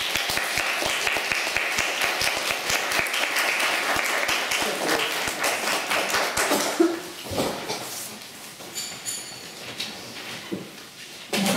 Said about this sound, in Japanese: 拍手でどうぞ。